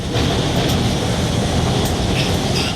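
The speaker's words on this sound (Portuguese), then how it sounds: "Os trens partiam lotados." Crowded metro trains departing a station in São Paulo, a steady broadband rumble and rolling noise throughout, with faint brief high squeals over the continuous roar.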